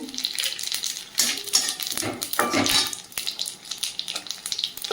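Dried red chillies and whole spices, bay leaf and cumin, sputter in hot oil in a home kitchen, an uneven close crackle and hiss with louder bursts of spitting as the pan sizzles, no voices.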